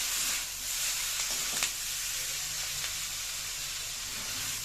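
Vegetables stir-fried for veg chow mein hiss and sizzle in a hot pan, a steady soft sizzle broken by a few light scraping stirs, fairly quiet and with no voices.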